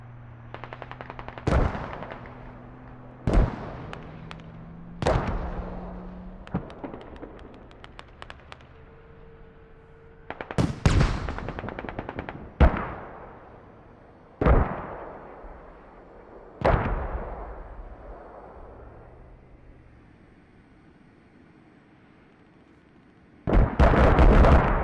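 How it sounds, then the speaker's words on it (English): Mortar impacts and gunfire in the military shooter Squad, with a series of heavy booming blasts spaced a few seconds apart, each followed by a decaying rumble, plus bursts of rifle and machine-gun fire at varying distances. "Mortars getting called in from the militia."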